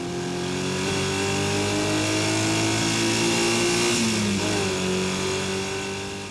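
A race car engine at full throttle on the Ruapuna circuit, loud and close with a steady, droning tone that dips briefly during a gear change before pulling hard again.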